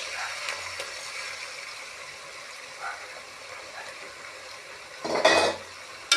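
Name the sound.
egg frying with onions in a pan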